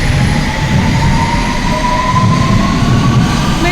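A London Underground train at Baker Street station rumbles steadily and loudly, with rising wheel whine and squeal over a constant low roar, heard close with no talk.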